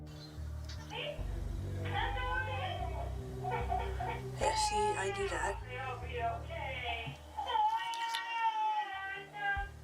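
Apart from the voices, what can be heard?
baby wailing in the background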